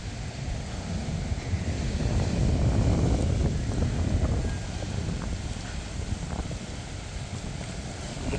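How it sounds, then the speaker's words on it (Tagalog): Strong seaside wind roars steadily with deep, surging rumbles of waves crashing nearby at Malagundi Point, Lobo, Batangas, swelling louder in the middle before easing to a constant blustery wash. "medyo malakas ang hangin ngayon pero wala namang ulan. So sarap pakinggan nung hampas ng alon."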